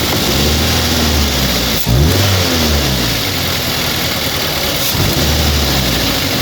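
Toyota Avanza engine with a faulty DLI ignition system, idling roughly then revving up with an unsteady, uneven note that dips and recovers, loud and close with no talk.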